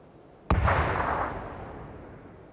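A single loud gunshot in a shooter video game booms sharply, then trails off in a long, fading echo with no other sound around it.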